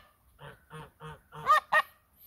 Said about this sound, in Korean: 이 거위들은 이 기러기들이 짝짓기를 하면은 옆에서 큰 소리로 이렇게 방해를 합니다